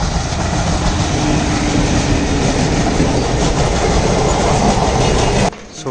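A train passes loudly and close at Naigaon railway station near Mumbai, a continuous rumble with rhythmic wheel clatter that cuts off abruptly near the end.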